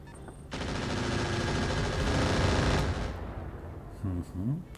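Anti-missile system in the RogueTech BattleTech game opens up with a loud, dense burst of rapid automatic fire that lasts a few seconds, then tails off into rumbling, with a brief voice at the end.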